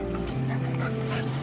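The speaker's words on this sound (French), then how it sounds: "C'est un malinois. C'est un chien de détection d'explosifs." A seven-year-old female Belgian Malinois explosive detection dog whimpers in a thin, wavering tone over a steady, loud background rumble, continuous for a brief moment.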